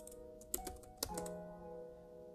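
A few quick keystrokes on a computer keyboard, two soft clicks close by over a faint steady electronic hum, without talk.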